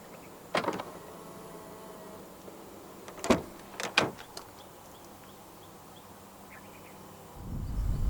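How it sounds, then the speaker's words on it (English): A 2023 Hyundai IONIQ 6's door locks clunk open with a few short, sharp mechanical clicks spaced apart, then a low rumble rises at the end. "And to unlock the car, press the indented area again behind any of the front door handles."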